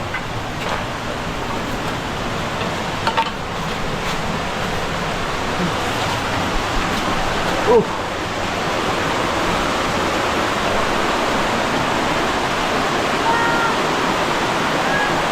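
Dhuppani Waterfall in Rangamati, Bangladesh, roars steadily, a dense, constant rush of falling water that fills the whole scene without letup.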